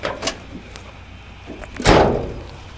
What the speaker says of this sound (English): Surprising, though, the way the door still works.